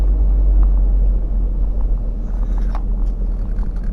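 A car cruising along winding country roads through small North Carolina towns, giving a steady, loud, low engine and road rumble throughout with no talk.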